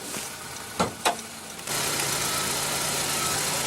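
2015 Honda Accord 2.4 L four-cylinder idles with a steady, hissy hum after a couple of brief thumps, like a hood being handled, the engine noise constant and near.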